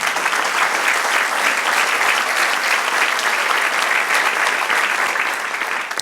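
A church congregation applauds in sustained, dense clapping that stays loud and even before tapering slightly at the end, with a brief spoken word at the start.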